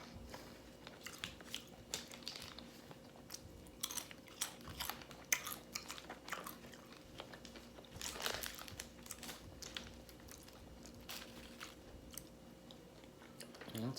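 Doritos chips eaten up close in a quiet room: soft, irregular crunching bites and bag crinkling, faint and intimate, repeating throughout with no talking.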